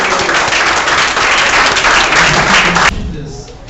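Church congregation applauding, a loud sustained wash of clapping that cuts off abruptly near the end, leaving quieter room sound.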